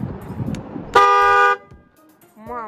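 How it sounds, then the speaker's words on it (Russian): A Skoda car horn fitted to a Meyra Optimus 2 Elite electric wheelchair gives one loud, flat half-second blast, framed by people talking before and after. "Мы тут установили шкодовский сигнал, вывели кнопку сюда"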